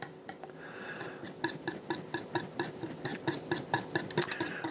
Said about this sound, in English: we're just going to mix that up really good